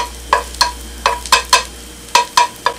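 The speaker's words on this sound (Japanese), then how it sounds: "こういい感じにこの歯型に整えながら強火で外側を焼き固めてあげてですね" Egg for an omelette is pushed and shaped in a pan over high heat, giving a series of about ten sharp scraping taps in an uneven rhythm over a steady low sizzle, close and fairly loud.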